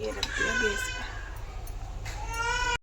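A baby girl crying in the background of a home kitchen, her thin wavering wails rising in short bursts behind someone talking over them close to the microphone.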